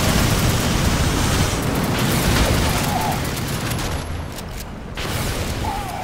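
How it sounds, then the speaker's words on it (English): Enemy shotgun fire in the co-op shooter Fuse, a dense, loud, continuous barrage of blasts and crackling bursts layered with explosion-like noise, with no clear pauses. "I think they're using those shotguns now"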